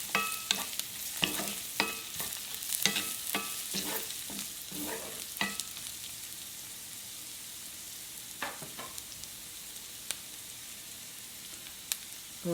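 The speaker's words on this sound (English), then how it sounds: "I just chopped them, roughly chopped ginger here. Just fry them for 1 minute." Roughly chopped ginger frying in a pan, with light crackling sizzle and sharp clanks of stirring that thin out into a quieter sizzle.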